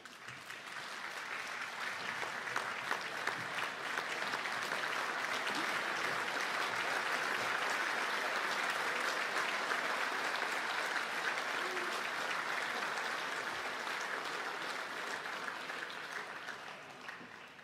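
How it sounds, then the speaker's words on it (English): Engineering graduates at a conferring ceremony applaud their families and friends, a dense, sustained wave of clapping from a large hall crowd that swells and holds steady for well over fifteen seconds before easing slightly. "give them a round of applause and thank them for what they've done for you"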